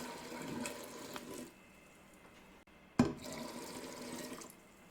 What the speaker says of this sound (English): And now to this, I'm going to add 6 cups of water.